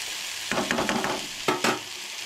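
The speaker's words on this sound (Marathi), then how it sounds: "हांगसर मम्मी ॲड केले टमाट. आता ते बीन सेम परतून घेवंक जाय" Chopped onions and freshly added tomatoes are stirred and sautéed in a hot pan for a chicken dish, giving bursts of loud sizzling and scraping spatula strokes in two clusters, close by and without speech.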